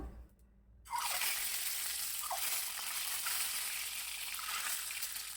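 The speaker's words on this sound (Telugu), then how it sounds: "వీటిని ఫ్రై చేసుకుందాము" Boiled eggs dropped into hot oil in a pan set off a sudden loud, dense sizzle after a brief quiet moment, and the bright crackling frying then carries on steadily and close with no talking.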